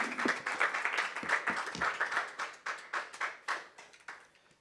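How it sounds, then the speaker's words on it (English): A modest audience at a Bitcoin hackathon's finalist presentations claps, rapid individual hand claps forming a moderate applause that gradually thins out toward the end. "let's give a round of applause"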